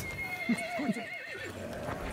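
A horse whinnies with a wavering, rising-and-falling neigh over faint hoofbeats, in a Battlefield 1 game soundscape without talk.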